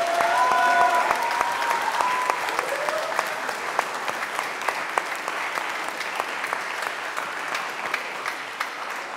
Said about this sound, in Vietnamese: Một lần nữa chúng ta làm tràng pháo tay chúc mừng các em.